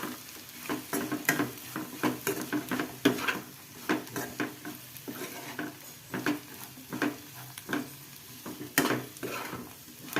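A spoon stirs small baby bitter gourds frying in a pan, giving repeated scraping clinks over a steady sizzle, close and fairly loud.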